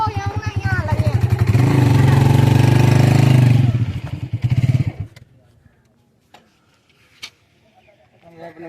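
A motorcycle engine runs loudly up close while being parked among many other motorcycles at an Eid gathering, then cuts off abruptly midway, leaving quiet clicks and faint sounds afterward.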